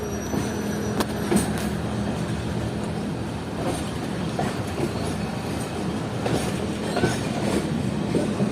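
A passenger train pulling out of Choora Sharif railway station, with a steady rumble, rhythmic wheel clatter and occasional squeals heard from on board, continuous and without talk.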